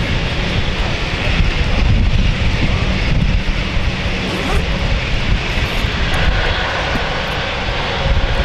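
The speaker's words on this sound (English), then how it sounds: "Ignition there for the Dash 8." Dash 8 turboprop engine starting at an airport, a loud, continuous roaring rush with wind-like broadband noise filling the whole stretch, close and steady.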